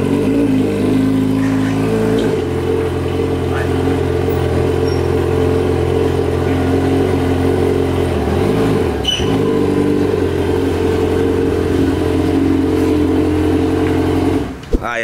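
Motorcycles, an XJ and a Hornet, idle and rev steadily while being loaded onto a small trailer, a loud continuous engine drone close by with a brief dip midway and a sharp knock at the end.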